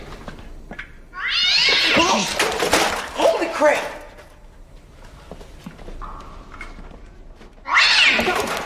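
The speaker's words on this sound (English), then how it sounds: "What is up with that cat? Is someone throwing it?" A cat yowls loudly in a harsh, drawn-out caterwaul, followed by a startled voice and another piercing yowl near the end.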